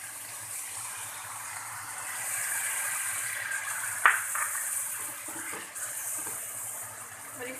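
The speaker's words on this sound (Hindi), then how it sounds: "इसमें हम 1 प्याली पानी की डालेंगे।" Water from a cup is poured into a cooking pan of fried spice masala, a broad steady gushing hiss with a sharper splash and clatter partway through.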